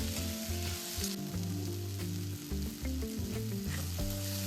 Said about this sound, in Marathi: थोडंसं व्यवस्थित चांगलं भाजून घेतल्यावर त्याला आपण मिक्सर मध्ये त्याची ग्रेव्ही करून घेऊया.